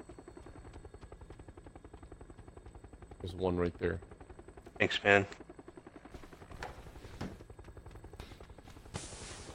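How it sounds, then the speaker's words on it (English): An in-game helicopter drones steadily overhead with a pulsing rotor chop, while bursts of gunfire crack through and players talk over it. "That fucking helicopter."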